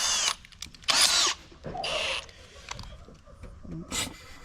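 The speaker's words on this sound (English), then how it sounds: "That's how you drill it" Short bursts of a power drill whirring up and stopping while installing a bonnet on a Holden VF Maloo, close and loud, separated by quieter pauses with faint low talk in between.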